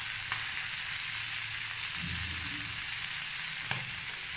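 Peas and onions fry with salt in a pan as a constant, even sizzle. A couple of faint stirring scrapes and clicks sit on top, close and steady.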